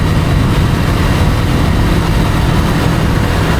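Loud, continuous rumble of a motorcycle cruising at highway speed in fifth gear on a night ride, dense and steady with wind roar and no pauses.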